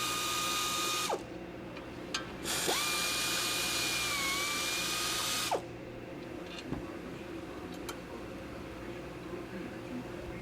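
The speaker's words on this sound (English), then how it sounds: "Air ratchet makes quick work of this." Air ratchet spinning off the brake bracket bolts on a Chevy Malibu's front knuckle with a 50mm socket: two loud whirring bursts, a short one then a longer run with a falling pitch, then some clicks against shop hum.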